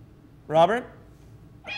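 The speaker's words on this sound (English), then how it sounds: "it sounds like some kittens are just meowing there" A single short, high kitten meow sounds close by, then a person briefly speaks.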